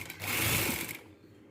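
A sewing machine runs in a short, steady burst of whirring stitches through golden patchwork fabric, close and fairly quiet, then stops.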